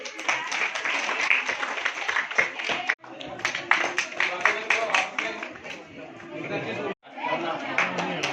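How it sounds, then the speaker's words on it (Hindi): An audience at a village Independence Day cultural program held at a sewing centre in Mundara claps in dense bursts mixed with crowd chatter, with two brief pauses between rounds of clapping. "तालियां बजाएं।"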